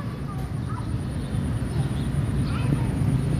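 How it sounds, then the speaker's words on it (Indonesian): A drone hovers and flies overhead, a steady buzzing motor drone with a thin high whine on top, continuous and fairly loud, with faint voices in the background. "menghabiskan baterai drone kalian ya, dengan diterbangin aja lah, hitung-hitung manasin mesin drone kalian."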